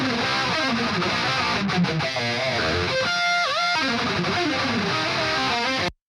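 Mixed distorted rhythm guitars heard dry, without parallel delay or reverb, dense crunchy chords and chugging riffs played continuously, loud and upfront, cutting off abruptly at the end.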